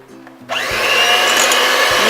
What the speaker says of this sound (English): I am going to beat this in a high speed until we get soft peaks of this